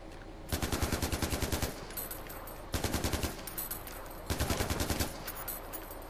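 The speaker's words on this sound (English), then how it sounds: "You're not dead yet after all those shots?" Automatic gunfire in the Far Cry 4 video game on PS4, three long rapid bursts of machine-gun shots, loud and close, with sustained echoing rumble between bursts.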